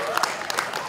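An audience at the Mandiri Karnaval Nusantara claps for Bank Mandiri in a brief, scattered burst of hand claps over a busy crowd background.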